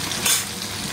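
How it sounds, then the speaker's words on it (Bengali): Fish rubbed with salt and turmeric fries in a pan, a steady close sizzle and hiss that swells briefly with a stir, no voices over it. "উঠে মাছটাকে ধুয়ে নুন হলুদ মাখিয়ে ভাজতে বসিয়ে দিয়েছি"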